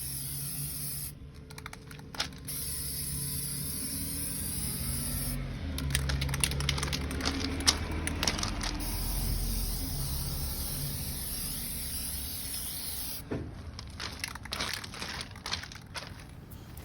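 An aerosol spray-paint can hisses in three bursts, short then longer, as frosting paint coats glass vases held upside down. The spray sounds close and fairly quiet over a faint hum, with quiet pauses between.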